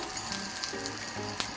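Thai chicken fried rice being stir-fried in a hot pan, a steady bright sizzle running throughout the short stretch with a sharp scrape or clink near the end, no voices.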